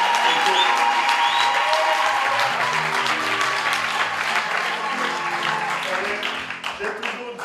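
Church congregation in Paris applauds the pastor, a loud sustained wave of clapping and crowd noise that fades toward the end, with a voice speaking over it.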